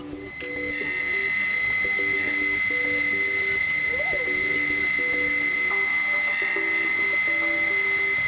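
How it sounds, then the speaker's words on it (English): A gear cutter cuts the teeth of a watch wheel, its repeating mechanical whir and rhythmic clicking ticks holding steady and close under a faint high whine. "The vertical slide is then locked, and then all of the teeth are cut in one pass"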